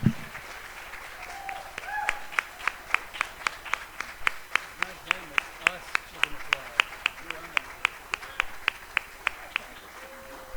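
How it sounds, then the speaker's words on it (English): Congregation clapping at a membership meeting to thank the board, a sparse run of sharp individual claps in a steady rhythm over a quiet room, with a few voices murmuring beneath. "join me in thanking them with an applause"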